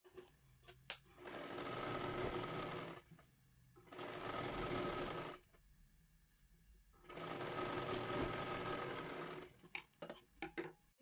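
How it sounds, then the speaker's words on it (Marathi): A sewing machine stitches the side seam of a size 36 katori blouse lining, slowly and steadily. It runs in three sustained whirring bursts separated by short pauses, close and clear with no talking. "साईडचा आधी शिलाई करून घेते पूर्ण व्यवस्थित सावकाशमध्ये आपल्याला शिलाई करायची आहे।"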